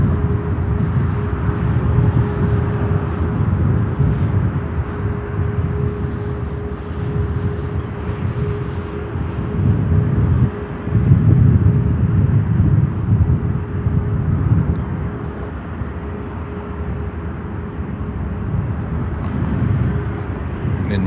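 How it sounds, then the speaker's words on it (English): A Spirit Airbus A321 airliner inbound from Los Angeles approaches O'Hare airport in a sustained, broad jet roar that swells and eases over about twenty seconds, fairly loud and steady. "It's a 321 coming in from Los Angeles, California."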